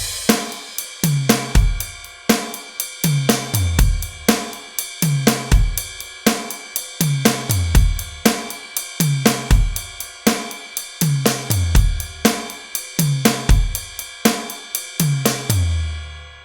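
A drum kit plays a steady chorus groove, with right stick on the ride cymbal, snare backbeats and bass drum repeating in an even rhythm, loud and close.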